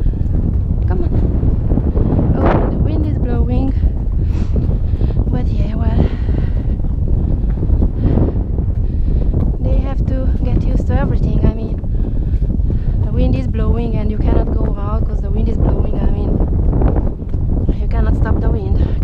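Strong wind buffets the microphone outdoors during a bitless trail ride on a horse, a loud, constant rumbling roar, while someone talks over it throughout.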